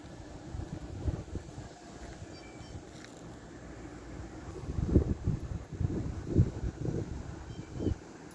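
Low, gusty wind buffets the microphone, swelling in a few stronger rumbling bursts toward the end, with no voices.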